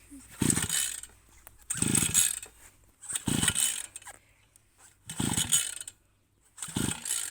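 Someone repeatedly yanks the pull cord of a lawn mower, giving five loud, close ratcheting pulls at even intervals with brief sputtering between them, but the engine never clearly catches.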